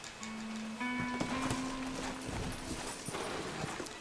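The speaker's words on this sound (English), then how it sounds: "Horses are over here." Horse hooves clip-clop steadily in a Western setting from Red Dead Redemption, moderately close and continuous, with a sustained musical tone and faint voices in the background.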